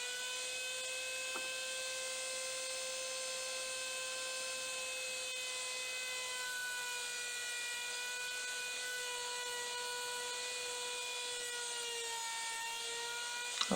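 A homemade horizontal slot mortiser runs with a steady, high motor whine rich in overtones. The whine holds unchanged throughout and stays fairly quiet, with no talking.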